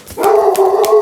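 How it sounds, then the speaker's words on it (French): A dog barks close and loud, a few sharp barks in quick succession filling the second, with no talk. "je vais aller faire arrêter les aboiements"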